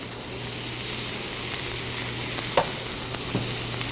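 A steak sizzles steadily in a hot pan that is reaching its smoke point, giving a constant bright hiss with a couple of soft pops and scrapes.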